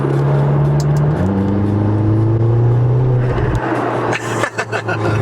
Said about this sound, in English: if you hit it a little bit and build it up and then let off, this is what it sounds like